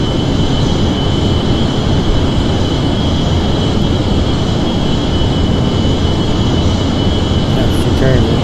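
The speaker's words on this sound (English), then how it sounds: "Crank on those afterburners. And away she'll go." Jet aircraft with afterburners lit in the video game Kerbal Space Program, a loud, steady engine roar with a constant tonal hum and no change throughout.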